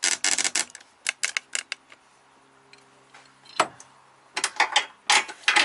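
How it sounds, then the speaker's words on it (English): A 17 millimeter wrench working the rear strut bolt on a VW MK2 gives close, sharp metallic clicks and ratcheting ticks in irregular bursts, with quiet pauses between turns and no talking. "A 17 millimeter wrench"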